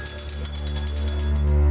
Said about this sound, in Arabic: ناقوس أم نينوس يكسر صمت قرية تلبالوعة التي هجرها أهلها